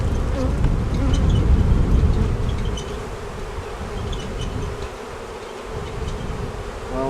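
Honeybee colony buzzing loudly at a hive suspected of preparing to swarm, a dense steady drone that swells at the start then settles to a continuous hum with occasional bees passing close.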